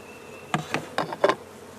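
Honey bees from a newly installed package buzz in short bursts around a hive with a syrup feeder, four or five brief close passes of droning hum separated by quiet gaps.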